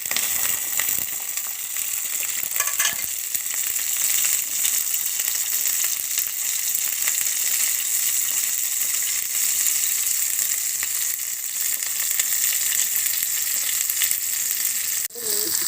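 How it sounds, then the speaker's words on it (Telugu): Curry leaves dropped into hot oil for an egg curry crackle and sizzle loudly and continuously, a dense hiss that holds steady for the whole stretch with a brief knock near the end. "ఆయిల్ వేడెక్కాక కొంచెం కరివేపాకు వేసానండి"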